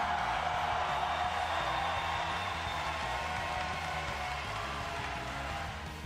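Stadium crowd at a Pokemon Unite world championship final cheering for team Peru, a steady, dense roar of voices and applause that holds loud for several seconds before easing slightly at the end.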